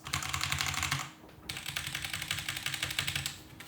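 Rapid clatter of typing on a Ducky mechanical keyboard fitted with standard Cherry Red switches, close and continuous apart from one short pause partway through.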